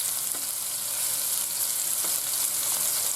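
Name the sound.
meatballs searing in a pan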